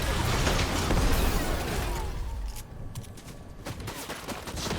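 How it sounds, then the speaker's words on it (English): Rapid bursts of gunfire in the Fortnite video game crackle densely and loudly, then thin out into scattered shots and mechanical clicks. "Shots fired. Better watch out."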